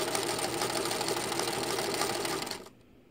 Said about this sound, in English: And I'm going to sew backwards.